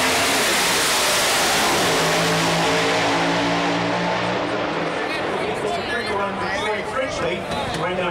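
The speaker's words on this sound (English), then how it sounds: "So Critchley with the 1941 Willis set to go in the O'Reilly lane" A 1941 Willys drag car at a quarter-mile NHRA heads-up drag race, its engine roaring loud and close and revving, while an announcer talks over the noise.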